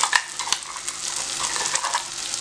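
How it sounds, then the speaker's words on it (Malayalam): Ground coconut paste is stirred into cooked ridge gourd, drumstick and onion curry in a pan, with a soft continuous sizzle and a few sharp scrapes of a spoon against the pan. "ഇനി ഈ അരപ്പ് നന്നായിട്ടങ്ങ് മിക്സ് ചെയ്ത് കൊടുക്കുക"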